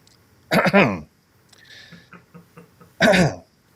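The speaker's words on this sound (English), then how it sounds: "Let me clear my throat" Two loud, harsh throat-clearing rasps close to the mic, separated by a quiet pause with faint murmuring and small clicks.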